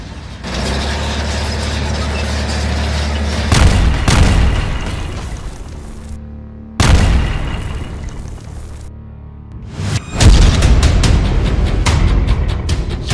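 Israeli tank fire in Gaza produces loud, sudden booms at three points, separated by heavy, sustained mechanical clanking and rumbling. The sound is close, dense and continuous, with no speech.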